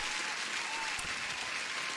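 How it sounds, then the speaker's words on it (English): Applause sound effect played on a day-trading livestream: a dense, even wash of clapping lasting the whole stretch, steady in loudness and heard alone without talk. "Let me give you an applause"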